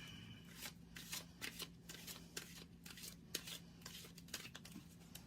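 Oracle cards from a life purpose deck are shuffled by hand in a rapid run of crisp riffling flicks and soft slides, close and fairly quiet, with a low steady hum underneath.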